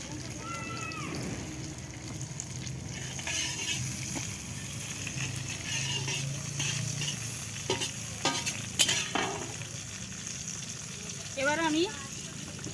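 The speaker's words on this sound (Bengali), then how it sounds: "এবার আমি ঘিয়ের উপরে আমি ওই চালটা এবার আমি ভেজে নেব।" Rice stirred and fried in ghee in a pan for basanti polao: continuous sizzling and crackling under repeated scraping strokes of a spoon, with a few sharper clicks and a voice in the background.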